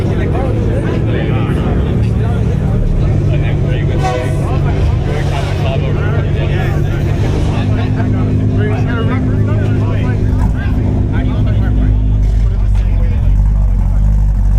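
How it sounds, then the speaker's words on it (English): A loud car exhaust rumbles at a busy Miami night car meet where a Camaro ZL1 and other loud cars gather, a deep sustained engine drone that swells toward the end, with people chatting nearby. "It's a humble exhaust startup."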